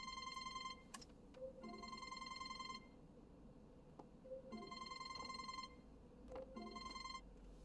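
A telephone rings with repeated electronic trilling bursts in an indoor room, three distinct rings separated by short pauses, moderately near and alone with no talking over it.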